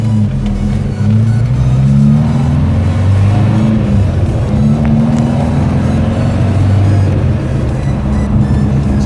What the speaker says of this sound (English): don't be easy on it.